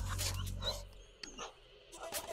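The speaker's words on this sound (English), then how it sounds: "Ideal little sport dog." A small sport-type dog whimpers and gives short yips up close, the sounds coming in brief bursts with a person speaking softly nearby.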